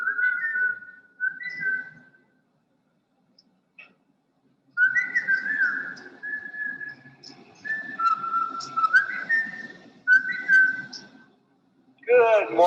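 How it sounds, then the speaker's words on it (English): Several clear whistled phrases of Mazatec whistled speech with gliding, speech-like pitch contours, in bursts separated by pauses, fairly close and loud. "they put that Mazatec phrase that they had whistled"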